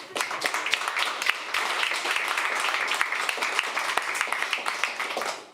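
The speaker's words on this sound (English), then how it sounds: "And round of applause for all the teams participating." A crowd at a hackathon applauds steadily for several seconds, dense overlapping claps forming a continuous wash of sound.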